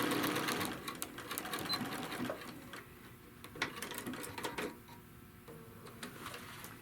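A sewing machine top stitches a crochet bag panel, its fast, even mechanical ticking running continuously at moderate loudness with no voices.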